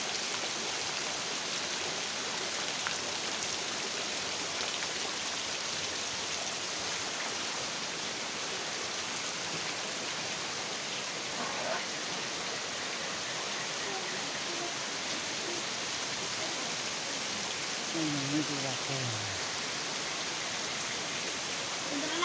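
Steady, dense heavy rain pours down in a continuous broadband roar in a village in Dapoli, with a faint voice briefly surfacing near the end.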